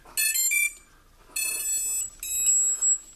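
Three bursts of high-pitched electronic tones from an FPV 250 mini quadcopter starting up after its battery is plugged in, each a quick run of beeps, with short pauses between them, fairly close and clear.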